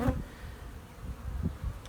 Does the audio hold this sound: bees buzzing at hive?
yes